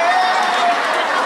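Audience applause at a Muharram religious gathering, a dense steady wash of clapping from a crowd, close and loud, holding evenly through a brief moment.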